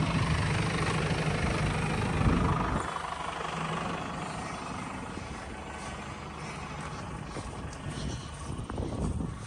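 A farm tractor engine idles at a distance on a busy hay farm, a low steady rumble with a louder patch early on that settles into a quieter continuous drone.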